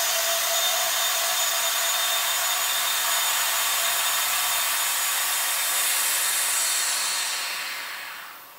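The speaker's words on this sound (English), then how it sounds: "Much of that air will flow back into the vacuum chamber," Air hisses steadily through a vacuum chamber relief valve after degassing epoxy resin, in a loud, broad rush that holds for several seconds before tapering off at the end.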